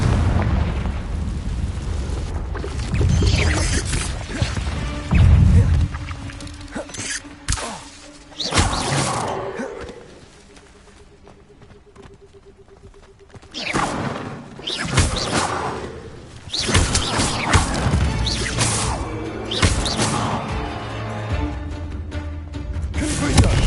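Confringo fire spells from Hogwarts Legacy burst repeatedly, loud booming blasts and crackling impacts amid busy combat effects, with a quieter lull in the middle before the explosions return.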